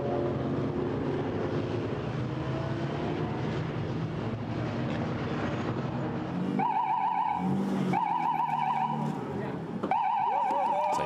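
GT4 race cars rolling down pit road at the Nürburgring during a GT4 European Series race, a continuous engine drone with rising revs and whining tones later on, under a commentator's voice.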